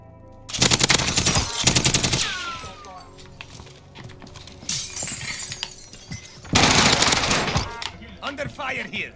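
Rapid automatic bursts from an XM4 rifle in the Warzone video game, loud and close, with two long volleys separated by quieter stretches of echo and scattered battle noise.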